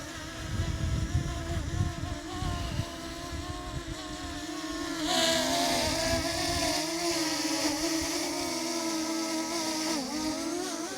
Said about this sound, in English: so here's the drone